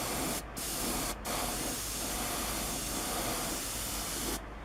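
Aerosol spray paint hisses in steady bursts as light coats go onto a 1/12 scale Bandai Scout Trooper and Speeder Bike model kit, a continuous close spray with brief pauses between passes.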